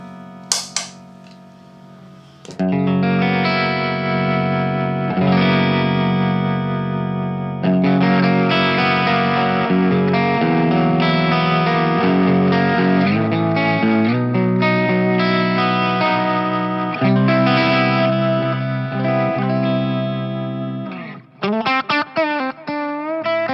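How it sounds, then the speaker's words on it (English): Electric guitar played through a Magnatone amplifier's vibrato effect, slightly crunchy, with strummed chords and picked notes wavering steadily for about twenty seconds, loud and alone, ending in a few warbling notes. "vibrato from MAGNATONE is famous for it"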